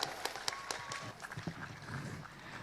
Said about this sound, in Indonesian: Tepuk tangan yang meriah untuk santri Indonesia